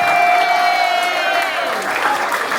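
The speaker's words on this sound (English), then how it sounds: "Can everyone give a round of applause for Heavenly?" Guests at a 21st birthday and farewell party clap in a round of applause, a steady wash of hands with a few whoops, while a sustained musical tone fades out early on.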